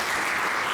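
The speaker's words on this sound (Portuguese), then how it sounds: "Uma salva de palmas." A church congregation applauds after a sermon. The clapping is dense and steady, filling the room evenly from start to finish in one brief burst.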